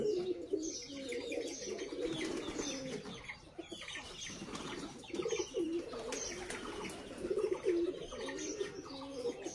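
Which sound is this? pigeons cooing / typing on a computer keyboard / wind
pigeons cooing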